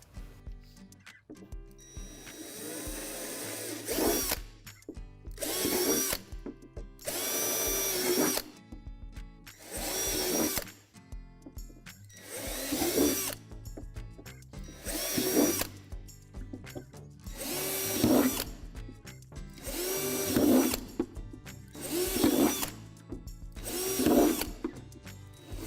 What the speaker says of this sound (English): There are 12 holes in the bottom of the sink that need to be drilled out